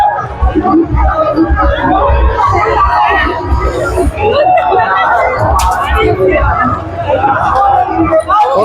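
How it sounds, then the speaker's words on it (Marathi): Large crowd at the Dasara festival in Hingoli, a dense continuous babble of many voices with occasional shouts rising out of the steady, loud hubbub. "आज शेवटचा दिवस आहे ना त्याच्यामुळे खूप गर्दी आहे बघा"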